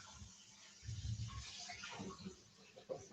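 Warm water pours into an Optimum G2.6 blender jar for cleaning, making a faint, close splashing gush that swells briefly and then trickles off into quieter sloshing.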